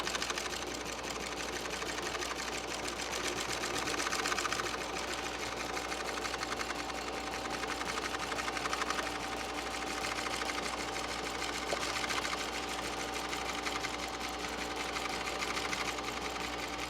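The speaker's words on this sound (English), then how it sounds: "now let's go ahead and sew this line all the way down" A sewing machine stitches tuck and roll upholstery for the running boards of a 1932 Ford, humming in one long, unbroken, even run close by.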